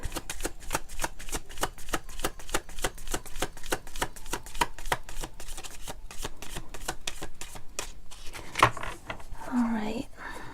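Tarot cards shuffled during a spiritual reading, a rapid run of crisp riffling snaps in steady rhythm, close and quiet, ending with a few softer handling rustles and a faint voice.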